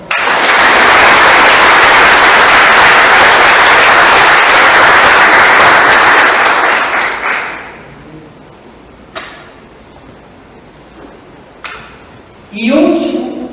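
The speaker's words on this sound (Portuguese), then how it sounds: "Você pode aplaudir o Senhor?" A church congregation claps together during a sermon: dense, loud, sustained applause for about seven seconds, then it fades into quieter room sound with a few scattered claps and knocks.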